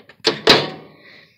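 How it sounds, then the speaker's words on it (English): The door release on a Sharp Carousel microwave is pressed and the door pops open with a sharp close clack and a thunk, followed by a brief fading rattle. "watch this, that's actually the door release"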